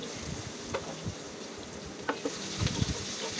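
Stem vegetable curry (data) cooking in a pan on the stove, a steady low sizzle with a few scraping stirs and clinks from a utensil, close and moderate in level, with no talking.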